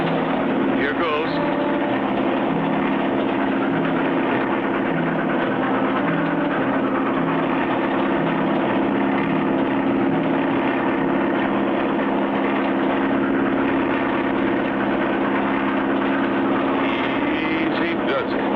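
A steady engine drone holds throughout, loud and continuous with a low rumbling hum, as if from a small aircraft flying close by.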